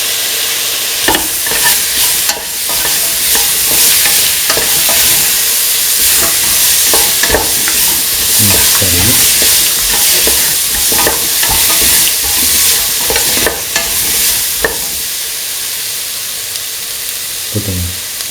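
A spoon scrapes and knocks again and again against a hot pan while potato pieces fry, under a continuous sizzling hiss that runs steadily for the whole stretch, with no talk.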